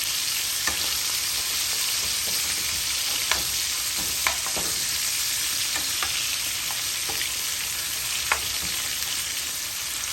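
Fish fries in mustard oil with a constant, even hiss and crackle. Occasional sharp pops and spatters stand out from the sizzle.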